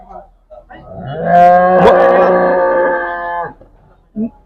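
A cow at the Maur livestock market gives one long, loud, close moo of about two seconds, with brief crowd voices before and after.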